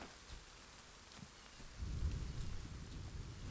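Rain falls in the survival video game The Forest, a faint steady patter that swells into a louder, rumbling downpour partway through, with no talk over it.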